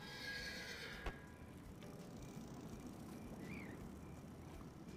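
A horse in the video game Voodoo Vince whinnies in a rising, wavering call near the start, then a brief click, over a low steady rumble at fairly low volume.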